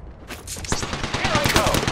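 A burst of rapid gunfire in the battle royale game Apex Legends, with quick, sharp shots stacking into a dense volley that grows louder toward the end.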